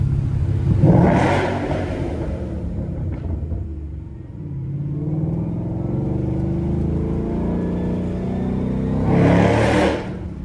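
A 2012 Ford Mustang GT/CS engine rumbles and builds with revving surges, loud and close, with broad whooshing bursts at the start and end as it passes through a tunnel.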